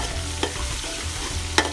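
Ginger garlic paste frying in a pan for an Indian chicken and okra (bhindi) dish gives a steady close sizzle, broken by two sharp scrapes of a stirring spoon, with no voices.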